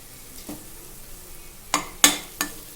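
Fish pieces being mixed with salt and spices for an Andhra-style fish fry: a few soft, sparse scrapes and clinks, with three sharper taps near the end, quiet and close.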